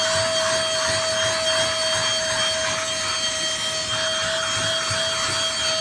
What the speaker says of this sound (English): Pretty cool hand vacuum, huh?